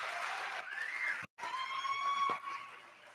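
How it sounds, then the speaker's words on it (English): Applause from a school opening-day audience, steady and moderately loud with a brief cut in the middle, then continuing and tapering off. "Big round of applause for Duncan"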